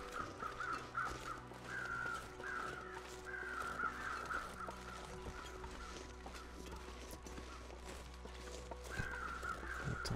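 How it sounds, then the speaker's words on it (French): Crows caw repeatedly in The Long Dark, harsh calls recurring in bursts across a steady wind-like ambient bed, fairly prominent throughout with no talk over them. "ils vont où ces corbeaux là?"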